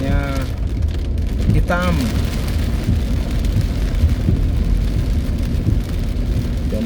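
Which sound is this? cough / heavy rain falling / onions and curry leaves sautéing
heavy rain falling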